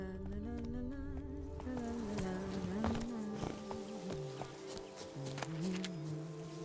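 Hooves of Roach, the horse in The Witcher 3: Wild Hunt – Blood and Wine, clip-clop steadily at a walk beneath a low droning game score, with rustles and thuds layered over the gait.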